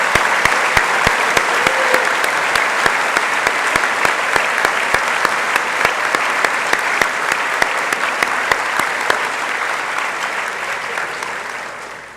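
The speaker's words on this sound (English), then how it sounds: "one final round of applause for all of our student award winners" A large audience at a college awards convocation applauds steadily and loudly for several seconds, sharp claps standing out from the dense clapping before it slowly tapers off.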